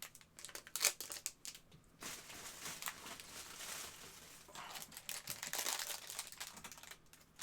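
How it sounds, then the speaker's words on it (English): A plastic bag of Lego pieces being crinkled and handled, quiet irregular bursts of crackling rustle interspersed with brief pauses, close and faint, with no talking. "and then I'll be done crinkling."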